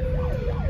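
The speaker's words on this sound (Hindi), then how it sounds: "लो भाई एम्बुलेंस है, पुलिस है," An ambulance and police siren wails loudly close by, its pitch sweeping up and down over a rumble of road traffic for a moment.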